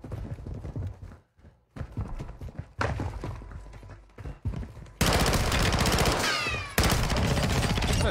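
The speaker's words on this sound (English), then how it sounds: "Is that a shotgun?" Video game gunfire, including shotgun blasts, bursts out in rapid sharp cracks and sustained volleys, loud and dense with game effects, later turning to continuous heavy firing.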